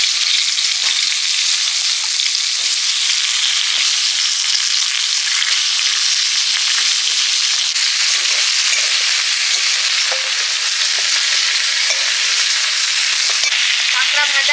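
Dried red chilies crackle and sizzle in hot oil as a tempering, a loud, steady, dense hiss that runs unbroken throughout with faint pops and no voices.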